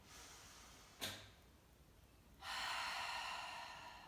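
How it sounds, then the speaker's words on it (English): A deep breath drawn in sharply through the nose during a yoga session, followed after a pause by a long, soft exhale through the mouth, close and quiet. "We'll take a deep inhale through the nose and letting it all out through the mouth."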